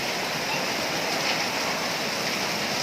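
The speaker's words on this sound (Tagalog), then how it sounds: "Sobrang lakas na ulan." Very heavy rain pours down steadily outdoors, a loud, dense, unbroken roar of water filling the scene without pause.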